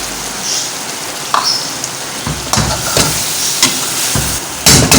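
Onion, tomato and yogurt fry in a pot for a village-style korma, giving a continuous hissing sizzle with repeated bursts of scraping and stirring close by.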